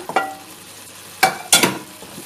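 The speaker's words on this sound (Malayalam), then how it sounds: "ഇനി ഇതിലേക്ക് മീൻ ഇട്ട് കൊടുക്കാം" Pieces of fish drop into sizzling pickle masala in a pan, producing a few sharp, close bursts of frying and spoon clatter, separated by brief quieter gaps.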